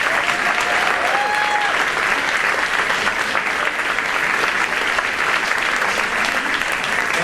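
Audience applause fills a varsity sports awards ceremony, a steady, dense wash of many hands clapping close by for the full stretch, with a brief whoop or voice rising briefly near the start.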